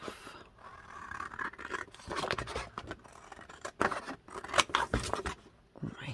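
Scissors cut through paper for a handmade envelope journal, a close, quiet run of crisp snipping and scraping strokes in an uneven rhythm.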